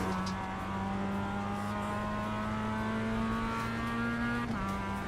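A V12 race car engine in the iRacing sim holds a steady, droning note at moderate volume, with a brief pitch dip near the end as the revs change.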